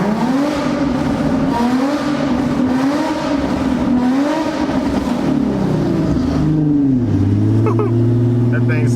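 An Infiniti G35 coupe engine revs hard inside a tunnel, loud and close with echoing rises and falls in pitch before settling to a steady drone, while a person talks over it.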